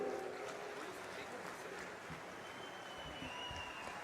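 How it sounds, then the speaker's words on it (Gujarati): A large crowd of farmers at a political rally in Rajkot applauds continuously, a dense, even wash of clapping heard from some distance for the whole stretch. "મારી સૌને વિનંતી કે સૌ ઊભા થઈ અને અમિતભાઈને તાળીઓથી"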